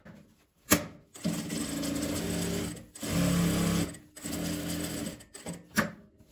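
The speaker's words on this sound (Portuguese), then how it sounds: "Vou fechar, passar um pesponto, dando a volta em todo o meu tecido aqui na beiradinha." A sewing machine topstitches around the edge of a fabric square, running in three close, steady mechanical bursts separated by short pauses and sharp clicks.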